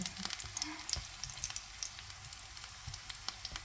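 Lumpia spring rolls and a leftover dish fry in hot oil, giving a steady sizzle broken by frequent small pops and crackles, close up and fairly quiet with no voices.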